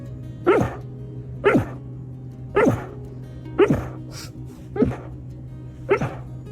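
A deaf dog barks six times at a steady, unhurried rhythm. Each bark is loud, sharp and close, with quiet pauses between them and a low steady hum underneath.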